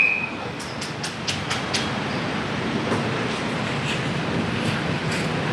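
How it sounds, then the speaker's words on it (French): Rail traffic rumbling past at KL Central station in Kuala Lumpur, a steady loud roll with a few sharp high squeals near the start. "Donc j'ai KL Central là, j'ai le tramway."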